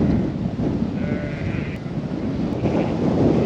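Sheep and lambs bleating in a field amid steady wind noise, with a few faint calls rising over the buffeting gusts for a few seconds.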